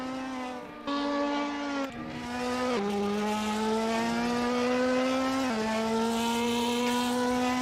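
A red Ferrari race car laps Imola circuit in a racing video game, its high-pitched engine wailing loud and close, rising steadily in each gear before dropping sharply at upshifts.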